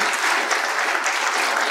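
Steady applause from a conference audience after a guest is thanked, dense broadband clapping at even loudness throughout the short stretch, no voices standing out.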